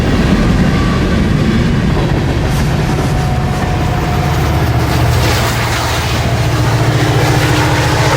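Loaded coal trains rolling through the Powder River Basin, a loud close continuous rumble of heavy freight cars with rhythmic wheel clatter and droning low engine tones throughout.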